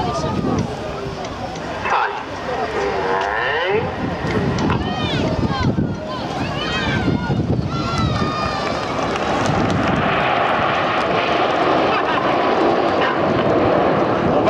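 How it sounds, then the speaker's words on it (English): Supermarine Spitfire fighter plane flying past at an air show at Clacton-on-Sea, Essex, its engine drone building into a steady loud roar. An announcer talks over the engine throughout. "Coming in from the left now, ladies and gentlemen, this is Spitfire."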